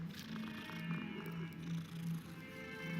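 A cat in the game Hogwarts Legacy gives soft, quiet purring and low murmurs, faint and close, with a steady rumbling tone throughout.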